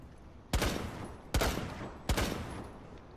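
Three sharp, heavy anti-aircraft gun blasts in the Siegefield shooter game, evenly spaced about three-quarters of a second apart, each with a booming crack and a short rumbling tail, loud and close with no talk.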